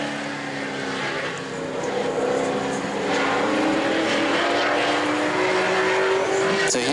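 Justin Reeves' number 21 sportsman race car runs a qualifying lap at New Smyrna, its engine a rising, droning roar that holds steady and builds toward the end, with an announcer faintly talking underneath.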